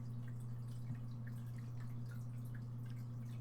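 Water dripping in a blocky Minecraft-style game world: soft, separate drips falling at an uneven pace over a low, steady electrical hum, with no voices.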